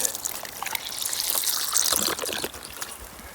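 Water trickles and splashes as it is poured out for a dog on a mountain hike, a close, steady running pour with small irregular drips and spatters.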